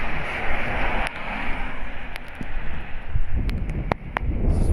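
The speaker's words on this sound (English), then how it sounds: "It's raining sideways." Heavy rain showers with strong, sudden wind gusts outdoors, a steady loud roar of rain and buffeting wind across the whole stretch, with occasional sharp spatters and knocks.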